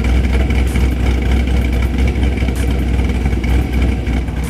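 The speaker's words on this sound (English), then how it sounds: "as you can hear, car has a cam, dual 660 lift cam" A Camaro 1LE with an LS3 V8 and a high-lift Vengeance Racing cam idles loudly up close, a deep, lumpy, uneven rumble pulsing steadily throughout, with no talk.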